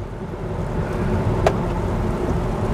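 Steady heavy rain pours over a new city road project in Phủ Lý, Hà Nam, a dense continuous hiss with a faint distant rumble and no talk.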